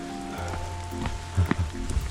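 Rain falling steadily on a mountain trail during a hike, a soft broadband patter with a few brief knocks and rustles near the microphone, and no talking.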